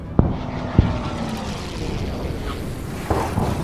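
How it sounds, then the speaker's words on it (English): Aircraft in the Order of Battle strategy game (Kriegsmarine, Atlantic campaign) droning as it comes in to land, a steady propeller engine hum with a few soft interface clicks over it. "enemy planes around, so let's just land this one."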